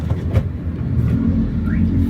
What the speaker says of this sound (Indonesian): pada saat kita injak pedal gas, RPM-nya nggak langsung naik banget